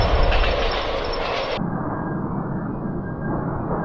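A train rolls past a closed railway level crossing, making a loud, broad, steady roar close by that stays even throughout.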